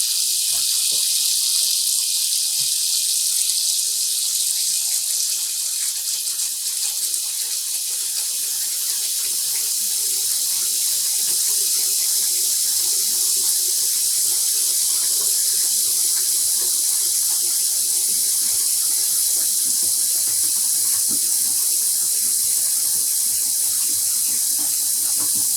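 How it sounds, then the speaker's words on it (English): Clear tap water runs steadily from a faucet into a sink or basin for yarn dyeing, a constant bright hissing stream close by that lasts the whole time without a break. "I'm going to add some more clear water."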